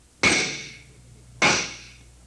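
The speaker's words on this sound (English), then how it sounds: "hammering out the axle." Two sharp metallic hammer blows knocking out a John Deere tractor axle, each a loud close strike with a ringing decay, spaced a little over a second apart.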